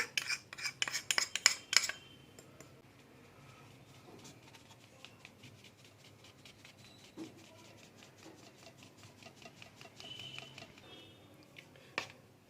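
Flour and baking powder being sifted through a metal strainer for an orange cake, a soft scratchy rubbing with a burst of sharper tapping strokes at the start, then fainter rasping that fades in and out.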